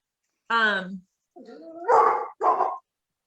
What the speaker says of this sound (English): Sorry, my dog's barking.